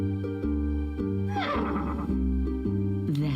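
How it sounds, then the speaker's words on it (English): A horse neighs loudly in a long rising and falling whinny over a sustained musical backdrop of held tones. "That's Pegasus, the winged horse."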